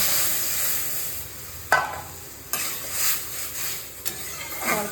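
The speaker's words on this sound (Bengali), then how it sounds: "ভাজা ভাজা হয়ে গেলে এবার আমি ডালটা দিয়ে দেবো" Lentils tipped into a pan of fried chopped onions sizzle steadily, with a few sharp scraping stirs from a spoon close by and no talking.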